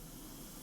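An airbrush sprays at low pressure over salt weathering on a model, a short, steady, even hiss close by with no voices.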